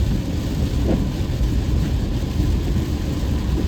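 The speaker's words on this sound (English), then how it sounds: "all it is doing is just raining and raining and raining" Steady, dense rumbling wash of heavy rain during a thunderstorm with a low roar underneath, continuous and unbroken, no voices.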